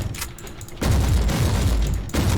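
Heavy autocannon fire in Warhammer 40,000: Inquisitor - Martyr: a dense, booming burst of rapid shots that starts abruptly and rolls on loud and low-heavy for over a second before briefly easing, then picks up again.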